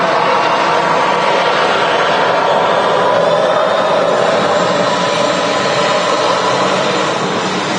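A TUI Boeing Dreamliner rolls for takeoff on runway 23 right at Manchester Airport, its jet engines a loud, sustained roar and hiss, continuous and close, with no talking.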